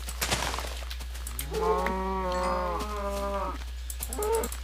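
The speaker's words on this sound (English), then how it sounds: "Prepare to not hear anything for the next 5 minutes except for the death of cows." A cow moos in the video game Minecraft, a long drawn-out low call followed by a shorter second moo, loud and close over a steady low hum.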